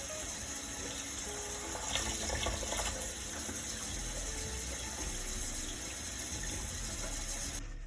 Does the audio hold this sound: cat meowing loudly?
no